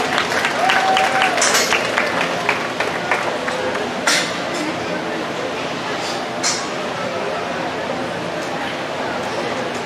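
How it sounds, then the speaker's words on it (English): Applause for kids at a swine show, scattered clapping that fades after the first seconds, with a few sharp clinks and a distant dog barking amid arena background and a voice talking. "Give those kids a round of applause."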